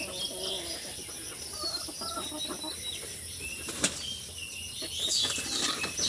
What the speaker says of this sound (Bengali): মুরগিগুলো হচ্ছে ছেড়ে দেবো এই দিক দিয়ে যাতে ওরা যেতে পারে